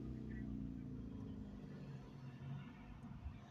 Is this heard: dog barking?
no